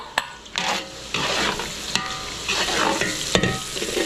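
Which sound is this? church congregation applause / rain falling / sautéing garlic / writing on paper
sautéing garlic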